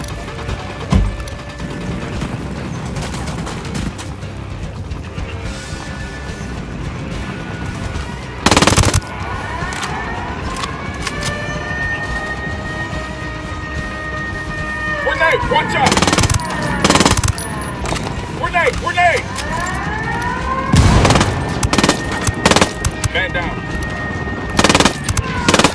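Automatic gunfire in Ghost Recon Wildlands, loud repeated bursts spread across the stretch, with sharp volleys at intervals and a continuous battle backdrop of engine whine and scattered shots between them.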